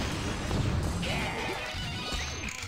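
Glass objects smash apart in the Wario World video game, a dense crashing burst of breaking and clattering that fills the whole short moment at close range.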